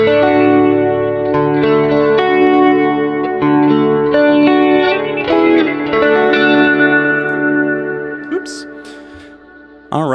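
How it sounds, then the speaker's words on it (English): A Kurzweil KSP8 effects processor colors a synth with flange and reverb, producing sustained, swirling chords that shift pitch and sweep, with long reverberant tails and a brief burst of noise near the end. "I send the synth pulsar and flange. I send a part of that signal back into the reverb. You just get this big sound."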